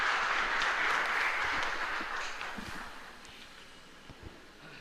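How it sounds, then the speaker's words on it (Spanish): Applause from a congregation at a Catholic Mass for Santa Rosa de Lima in a chapel in Ñemby, fairly distant and muffled, fading away over a few seconds. "Fuerte aplauso para nuestra Santa Protectora."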